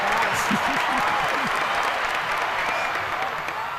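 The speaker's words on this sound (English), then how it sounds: "You can hear the crowd's excitement." A high school powderpuff football crowd cheers and claps after a touchdown, a loud, steady roar lasting throughout, with a few shouting voices rising above it early on.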